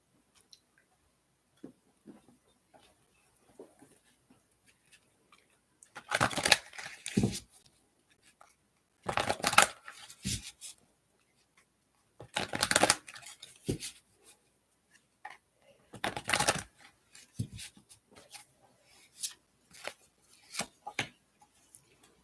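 Playing cards are shuffled for a card reading in several brief, quiet riffling bursts separated by pauses, soft and close with little else around.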